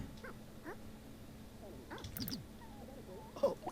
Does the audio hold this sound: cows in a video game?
no